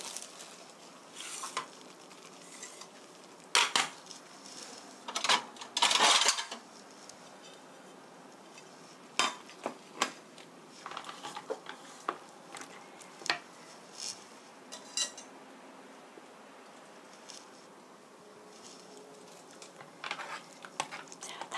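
Fusilli in cream sauce is stir-fried in a pan, with a soft steady sizzle broken by scattered clicks and scraping knocks of a utensil against the pan, close and quiet.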